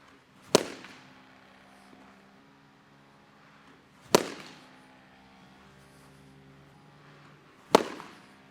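A Power Alley Pro pitching machine with a self-feeder throws Nerf balls for batting practice, giving three sharp, loud pops spaced roughly three and a half seconds apart over a quiet background hum.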